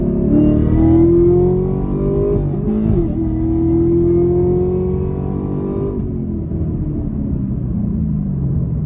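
A Camaro ZL1 V8 revs hard and loud up to high RPM, dips sharply for a quick no-lift shift, then climbs again in a deep sustained roar before easing off, with no talking.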